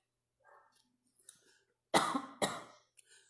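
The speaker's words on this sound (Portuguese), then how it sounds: "Eu tô tossindo pra cá pra eu não pegar em vocês" A woman coughs twice, hard and close, during a Bible study gathering, preceded by softer breathy sounds and a little throat clearing, with no talking over it.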